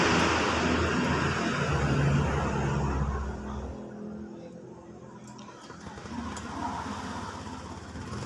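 A Honda Vario 125 FI scooter engine, freshly rebuilt with a new piston, runs with a loud low hum that eases to a quieter, steady idle, with some talking around it.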